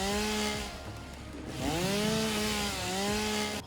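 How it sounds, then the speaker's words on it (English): A chainsaw cuts into mycelia in a video game, a steady droning whine that rises and falls in pitch as the blade bites and revs, continuous and close, with no talk. "Let's chainsaw, because I want this mycelia for a couple of unlocks."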